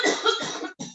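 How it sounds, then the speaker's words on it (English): A single close, loud human cough, a short harsh burst with a brief second catch at the end, heard on its own. "excuse me, I just coughed."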